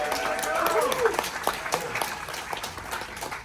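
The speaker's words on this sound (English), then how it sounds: "Give a warm round of applause for our next presenter" An audience on a marketers' cruise aboard the Carnival Horizon applauds the next presenter, a dense spread of clapping with a voice speaking over it at the start.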